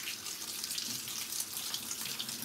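Steady running tap water while a makeup brush is rinsed under it, a continuous close hiss and splash at moderate loudness with no talking.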